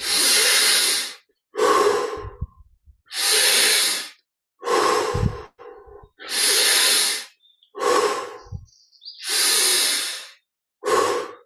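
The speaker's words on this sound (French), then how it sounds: "Encore 10 respirations. Prenons plaisir à la fraîcheur de l'inspire." Slow, deep breaths during guided meditation come close and clear, long airy inhales and exhales alternating in an even rhythm with quiet pauses between them.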